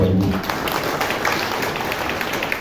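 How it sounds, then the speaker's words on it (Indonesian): Dense, steady applause from a crowd, broad and continuous throughout, with a brief voice at the very start. "Tepuk tangan Bapak Ibu."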